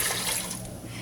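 Water pours into a blender jar already holding carrots for juice, a steady splashing stream that fades slightly toward the end, heard alone at close range.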